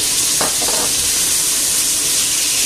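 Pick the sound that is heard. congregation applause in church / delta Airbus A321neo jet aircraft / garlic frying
garlic frying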